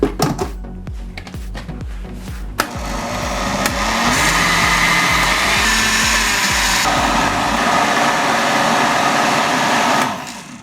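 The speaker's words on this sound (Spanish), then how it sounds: "yo lo voy a hacer aquí en la licuadora para que quede bien" A blender roars loudly up close, its motor labouring and shifting pitch as it grinds a thick mesquite pod mixture for atole, then cuts off near the end.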